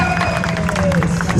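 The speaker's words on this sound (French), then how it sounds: "Applaudissez." Crowd applause and cheering for Sarah Lezito after a motorcycle demonstration, a brief burst of clapping and crowd noise with voices and a steady engine-like hum underneath.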